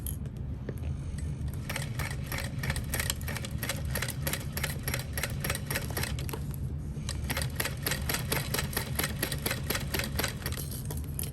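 A cylinder-arm sewing machine stitches in quick, even mechanical clicks in two bursts separated by a brief pause near the middle. The needle rattles close and steady over a low motor hum, with no talking.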